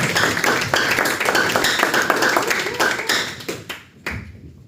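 Dense audience applause at a talk on mental health, many hands clapping steadily, then thinning out and tapering to a few final claps.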